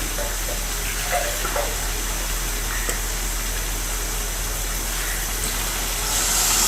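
Water poured steadily into a pot of rice for black chana pulao, a continuous broad hissing splash at even loudness, without talking.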